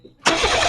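A Suzuki Wagon R FTS Limited with a K6A engine cranks and catches after a brief quiet pause, then settles into a steady, close, fairly loud idle.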